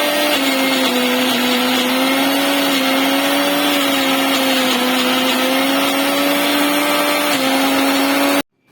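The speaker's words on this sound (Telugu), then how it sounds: "అల్లము వెల్లుల్లి కలిపి మిక్సీలో వేసుకోవాలి" A mixer grinder whirs steadily while blending ginger and garlic into paste, with a loud, constant motor whine at an even pitch that cuts off abruptly at the end.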